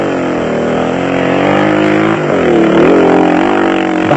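A KTM off-road race motorcycle engine drones loudly and steadily during a 1995 Toyota 1000 off-road race in South Africa, its pitch rising and dipping as it revs, with no voice over it.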